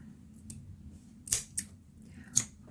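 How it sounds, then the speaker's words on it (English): Scissors snipping through two strands of crochet yarn: a few faint, short, crisp cuts spaced apart in a quiet room, with one earlier light click. "it's time to take your scissors and cut both"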